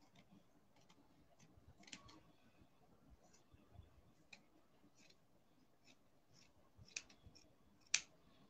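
Scissors snip through shirt collar fabric in a quiet room, a string of small, crisp close-up cuts at uneven intervals, the last one sharper and louder.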